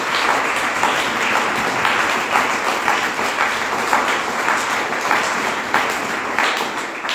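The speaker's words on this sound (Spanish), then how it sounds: "Denle ese fuerte aplauso al Señor." A church congregation breaks into loud, sustained applause, many hands clapping together in a dense, even roar that holds steady from start to finish.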